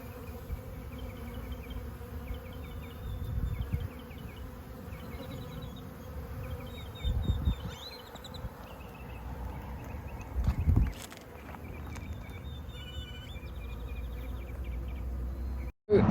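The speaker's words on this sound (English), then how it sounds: "See how they're flying around the front of the hive, getting their bearings." Honeybees flying in front of their hive, a constant close buzzing drone with overlapping wingbeat whines, plus occasional low bumps and handling noises and a brief sharp click at the end.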